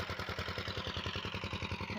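A Zubr walk-behind tractor tilling soil outdoors, its single-cylinder engine chugging in a fast, even clattering rhythm, steady and fairly close throughout.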